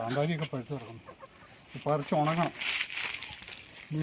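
Hens wandering around a home yard cluck in close, repeated bursts of short calls, with light rustling and crinkling noises between them.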